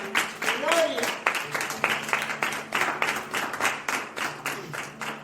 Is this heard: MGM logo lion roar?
no